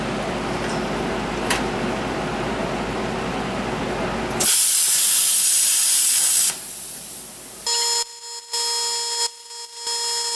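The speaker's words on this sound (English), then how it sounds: "We're going to be using the plasma torch to cut some metal." A plasma torch cuts metal chain into lengths, giving a loud, bright hissing roar for a couple of seconds, then tonal whining noise with short broken bursts as the cut stops and starts.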